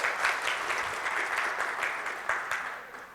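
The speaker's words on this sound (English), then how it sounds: "A round of applause." Audience applause at a panel discussion for a student panelist being introduced, a steady crowd of clapping hands sustained throughout at moderate distance, with no voices.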